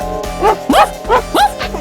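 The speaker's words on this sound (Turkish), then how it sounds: "Köpek mi?" Four or five short yelps and barks from a small dog, close and fairly loud, spaced in a quick uneven rhythm.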